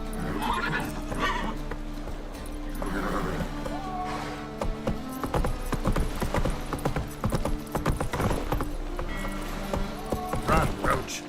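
Roach, a horse in the video game The Witcher 3, gallops with steady clip-clopping hooves and a brief whinny, the rhythm running continuously beneath a voice talking.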